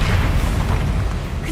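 Bombarda blasting spell going off in the Hogwarts Legacy video game during a troll fight: a heavy, rumbling explosion with a dense low boom that sustains loudly through the moment.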